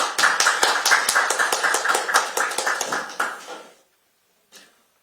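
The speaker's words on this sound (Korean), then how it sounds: "큰 박수로 맞이해 주십시오" Scattered audience clapping welcomes a speaker at a political party's game-industry committee launch ceremony: distinct, fairly close claps for several seconds that thin out and stop, followed by one faint knock.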